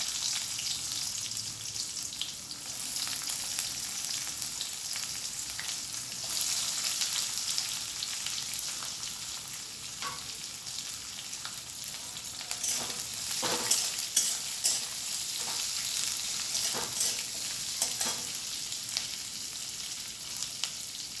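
Onion fries in hot oil for a potato-onion dosa filling, giving a loud, continuous sizzle with crackles and scraping stirs that grow busier partway through.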